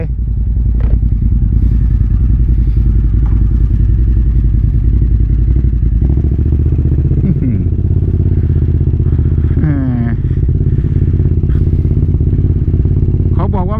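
A Suzuki TL1000R V-twin motorcycle with a smoking engine rumbles loud and continuous while being ridden, with a deep steady engine roar and wind noise, and a few brief voice exclamations over it.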